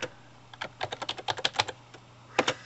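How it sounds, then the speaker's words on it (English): Fingers type on a computer keyboard, a quick run of about a dozen close, crisp key clicks in an uneven rhythm, a brief pause, then two more taps; no voices. "This is the area where we will type in what we want it to say."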